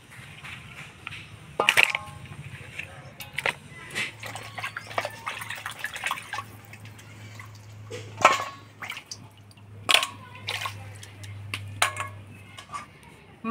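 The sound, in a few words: washing fish head in water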